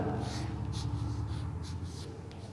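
Pen or chalk writing by hand during a maths class, with short repeated scratchy strokes in quick bursts, close and fairly clear above a low background hum.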